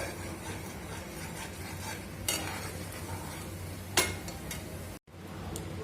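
Spice paste of coriander, cumin, turmeric, salt, ginger and green chilli frying in a pan while being stirred, a quiet continuous sizzle with occasional sharp utensil scrapes and clicks.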